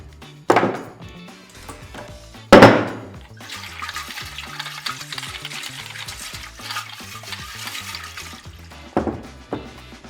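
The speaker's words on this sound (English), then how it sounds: "shake vigorously to mix your cocktail" Cocktail being shaken hard inside a QuikTap keg, liquid sloshing and swirling with sharp knocks at the start and end and a continuous churning wash between.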